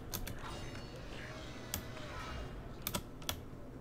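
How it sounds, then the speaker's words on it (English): Typing on a computer keyboard, with scattered key clicks and a few sharper clacks over a quiet background, fairly faint and close, no talking. "Can you guys, like, hear my keyboard really loud?"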